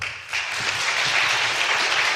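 A lecture audience at a film and literature series welcomes a speaker with applause that swells after a brief pause and continues as a loud, dense, even clatter of clapping close by.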